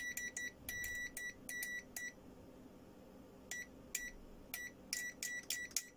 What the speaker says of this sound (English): When you switch the buzzer mode on this,